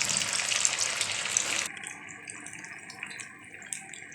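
Chicken rice pakoras sizzle in hot oil, a loud, dense hiss for the first second and a half that then drops to a quieter, steady bubbling.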